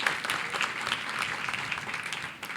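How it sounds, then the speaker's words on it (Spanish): Steady applause from a church congregation, a dense, even patter of many hands clapping at close range that holds for the whole stretch without voices standing out. "Si es para el Señor, dáselo fuerte el aplauso"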